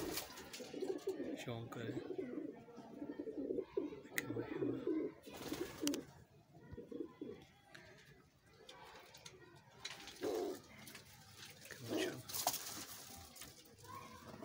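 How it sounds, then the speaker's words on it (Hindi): A Bagla breeder pigeon coos softly in repeated low bursts, with a person speaking nearby and occasional clatter in the background. "ये बगला ब्रीडर कबूतर है"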